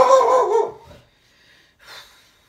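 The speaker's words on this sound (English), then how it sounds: "There's a dog barking." A dog lets out a loud burst of barking up close, which breaks off into a short quiet before a fainter, breathy second sound follows.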